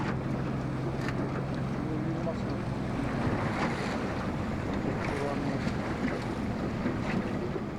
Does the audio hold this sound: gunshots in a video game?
no